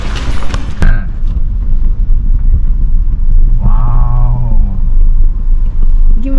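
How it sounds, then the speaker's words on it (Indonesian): A car creeps slowly over a severely broken road on the way to Bali Sadar in South Sumatra, its low rumble steady and close, with bumps and jolts along the way and a brief tonal whine partway through. "Beberapa kilometer menuju Bali Sadar, jalanan rusak parah. Kendaraan melaju pelan."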